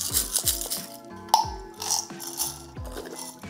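Crisp mechanical clicks from turning the grind adjustment on a Comandante C40 MK4 hand coffee grinder, several distinct close taps with a slight metallic ring, spaced irregularly.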